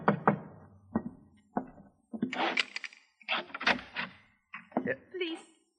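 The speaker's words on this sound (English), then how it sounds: "there was a knock on the alley door" A knock on an alley door in a radio drama, a few short raps at the start followed by spoken dialogue that continues through the rest.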